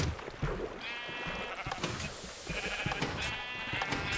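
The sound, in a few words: sheep bleating in Minecraft video game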